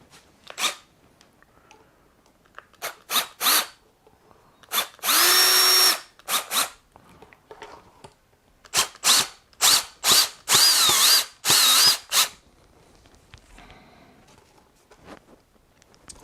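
A power drill drives thick screws into an arcade cabinet, with short close whirring bursts and a few longer sustained runs, separated by pauses and small handling clicks.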